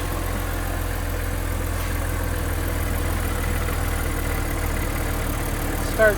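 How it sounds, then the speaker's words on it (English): Rattling, misfiring engine of a BMW E90 330xi idling with the hood open, a steady low rumble with an uneven knock running throughout. "Maybe you hear a little bit of the rattle. It gets louder. You can hear her starting to misfire again"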